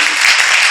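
An audience at a Living Branch Church service bursts into brief, dense clapping to welcome visitors, a short wash of applause with no voices.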